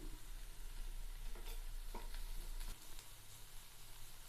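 Steady frying sizzle of chopped tomato in a pan with occasional scraping stirs of a utensil, close and continuous, no voices.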